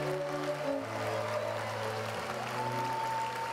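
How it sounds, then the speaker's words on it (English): An audience gives steady, moderately distant applause for graduates at a university education school commencement ceremony, an even clapping wash that carries on throughout under a faint sustained tone. "Please give a round of applause for the Department of Counseling and Human Development graduates."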